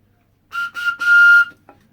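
A homemade whistle carved from bramble wood gives three loud, close, piercing blasts, the last one held longest, then a brief faint chirp, with no other sound around it.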